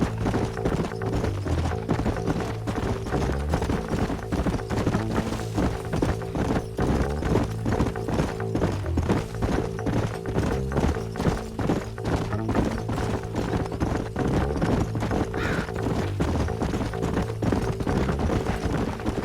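Horses' hooves clip-clopping in a steady brisk rhythm throughout, several animals moving together over ground in the Red Dead Redemption game, fairly close with faint background ambience and no talk.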